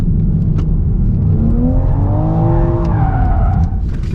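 A Toyota GR Supra's six-cylinder turbo engine howls on a race circuit, loud and close, its pitch sweeping up and down through gear changes with a brief tire squeal.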